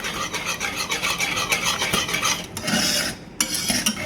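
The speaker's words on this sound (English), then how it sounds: "it's always good to use a whisk because it's better to stir with it" A whisk stirs a no-bake banana pudding cheesecake mixture in a bowl, making close, brisk scraping swishes in quick repeated strokes with a few brief pauses and no talking.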